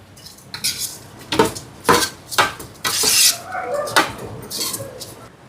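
Washed rice tipped into a cooking pot and stirred with a utensil, giving a series of loud scraping, clattering strokes against the metal, several distinct bursts in close succession with no talk.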